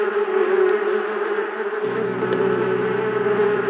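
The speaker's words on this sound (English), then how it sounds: "No wonder we were hearing buzzing noises." Bees buzz around a beehive in the Murder She Wrote video game, a loud, steady close-up drone that shifts pitch slightly midway and carries on alone without speech.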